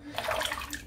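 Water briefly splashes and runs over a shaving brush being rinsed of soap under a tap, a short close wash sound under a second long.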